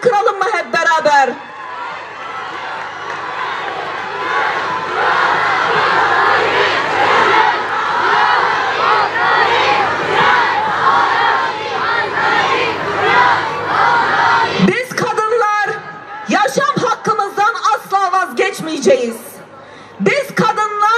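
A large crowd of women at an International Women's Day (March 8) rally loudly chant the Kurdish slogan "Jin jiyan azadi" in rhythmic unison, sustained cries and ululation filling most of the clip before breaking into scattered shouts and cheers.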